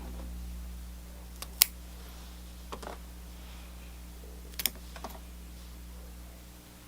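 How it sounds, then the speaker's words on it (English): Scissors snip a leaf off a yucca bonsai: a few sharp, quiet clicks, spaced apart by a second or more, in an otherwise hushed room with a low hum. "So I'll come in here with the scissors and remove that leaf."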